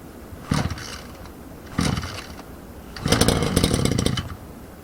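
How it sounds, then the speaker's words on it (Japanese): A grass-cutting brush cutter's engine pulled with its recoil starter and the choke on: two short buzzing bursts, then a longer rough sputtering run that dies out, all close and loud. "ブルルンといってエンジンが止まったのが、聞いていただけたかと思います"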